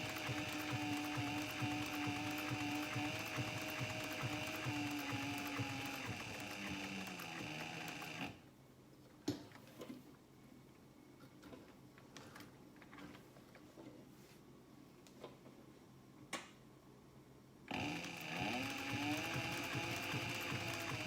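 A sewing machine stitches at a steady rapid clatter, then stops while it is cranked slowly by hand around a corner, giving quiet scattered clicks, before the fast stitching resumes.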